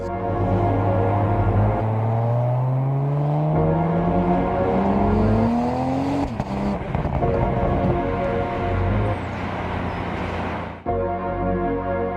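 A 2025 BMW M340 engine revs up, its pitch rising steadily for several seconds into a loud, rough roar that then settles back, close and clear with no voices.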